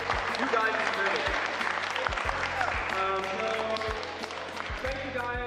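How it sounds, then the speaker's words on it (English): A fighting game community audience claps and cheers in sustained, dense applause, with voices mixed into the crowd noise. "give yourselves a round of applause for your contribution as the community, as the FGC"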